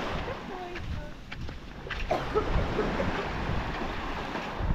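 Waves and water movement around the Gili Air harbor off Lombok, with boat noise and gusty wind rumbling across the microphone, a steady wash of surf carrying on throughout.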